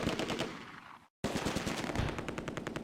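Rapid bursts of Bren light machine gun fire in a Close Combat wartime battle, steady hammering rounds with a brief silent gap before the firing resumes.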